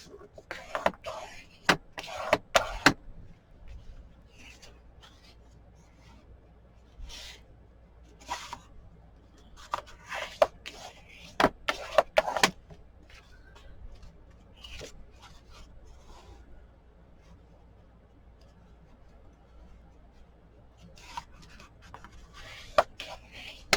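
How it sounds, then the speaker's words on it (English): Sheets of watercolor paper are folded in half by hand, giving quiet, close crinkles, rubs and sharp creasing swipes in scattered bursts separated by near-silent pauses. "and I'm going to just fold them in half"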